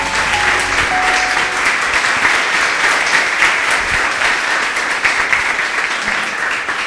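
A church congregation applauds loudly and continuously during a sermon, a dense wash of clapping filling the room from start to finish.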